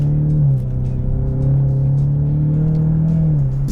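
Ford Mustang EcoBoost four-cylinder heard from inside the car in sport mode on a wet road, a steady droning engine note that dips briefly and then holds and rises gently under load, loud and with no talk.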